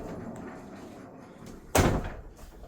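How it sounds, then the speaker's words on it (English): A sliding door between a laundry area and a bedroom in a house closes with one abrupt, loud thud and a brief rolling tail, set against a quiet room. "Now this has a sliding door"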